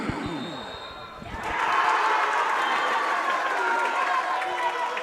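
Supporters of a school team cheer at the Danske Bank Ulster Schools McEvoy Cup final in Enniskillen, a swelling roar from a large crowd that follows ball bounces and scuffling and then holds steady under a commentator's voice.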